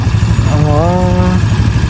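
A small ATV engine idles with a steady low rumble close by, while a brief voice rises over it in the middle.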